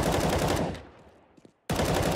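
Rapid automatic fire from an M4 rifle in Counter-Strike: Global Offensive rattles in a loud, dense burst, trails off into a short pause, then a fresh burst starts up again just as loud.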